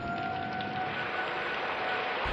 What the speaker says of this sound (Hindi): इतनी तेज बारिश की आवाज